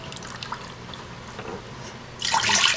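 Water pours from a tap into a measuring cup at a kitchen sink while pickling okra. A loud splashing stream starts near the end after quieter dripping and handling sounds, with no talk.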